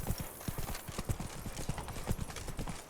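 Roach, Geralt's horse in The Witcher 3: Blood and Wine, runs with rapid rhythmic hoofbeats that are close and steady throughout, set against faint ambient background.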